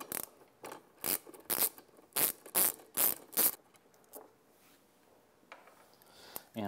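A ratchet loosens the battery negative cable on an E-Z-GO RXV golf cart, giving about eight sharp, close clicking bursts in quick rhythm, then a quieter pause with faint fiddling and a final click.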